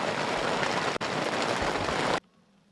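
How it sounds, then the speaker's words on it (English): Heavy rain pours during a rain delay at a men's baseball cup final in Valencia, a dense, steady hiss that cuts off abruptly near the end. "a lot of rain coming out of the air"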